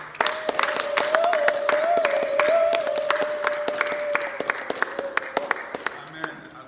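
A church congregation applauds and cheers in praise of God, dense sustained clapping with a held sung or shouted tone running through, fading slightly toward the end as talk continues.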